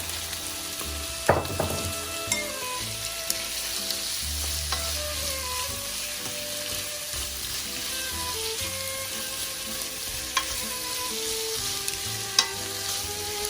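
Green beans sauté in a pan, a constant bright sizzle with occasional stirring scrapes and clinks of a utensil against the pan, close and steady throughout.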